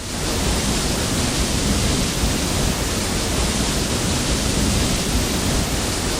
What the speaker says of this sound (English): The thunderous sound is overwhelming, and it's really it's really neat.